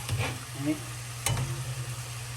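A spoon stirs spaghetti in a boiling pot in a kitchen, a soft scraping swish with a couple of brief clinks, close and fairly quiet over a steady bubbling hum.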